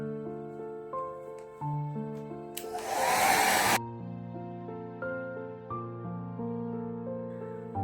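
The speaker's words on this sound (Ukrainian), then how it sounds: "Щоб прискорити просихання поверхні, можна використовувати звичайний фен." A hair dryer blows in one loud rushing burst lasting about a second, set against steady sustained tones before and after.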